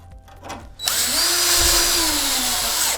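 A power drill drives a 1/4 inch structural screw into pre-drilled holes in a wooden floor joist, a brief quiet lead-in followed by a loud, steady whirr that stops abruptly after about two seconds.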